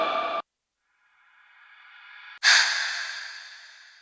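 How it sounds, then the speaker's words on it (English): Breath noise sample played in the Koala Sampler beat-making app, loud airy exhales with a short sharp burst, a gap, a rising breath and then a strong gust that slowly fades. "Breath noise is pretty cool."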